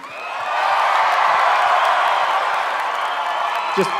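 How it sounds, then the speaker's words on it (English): A pageant audience at the 2015 Miss Universe preliminary competition applauds and cheers, a dense sustained wash of clapping that swells in within half a second and holds steady for the rest of the stretch. "Let's give our contestant one more round of applause."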